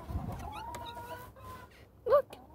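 Chickens cluck softly at close range in short, scattered calls, with one louder squawk near the end, in a quiet setting with no speech.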